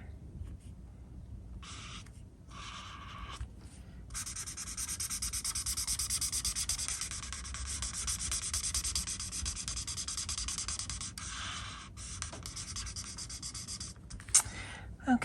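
Marker tip rubbing and scratching steadily across paper while coloring in trees, close and continuous, with brief pauses between strokes and no talk.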